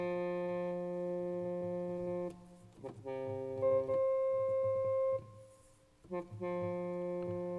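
A muted brass instrument plays sustained notes in a short sequence, each one a bright, buzzy, pinched tone that rings alone with brief pauses between phrases.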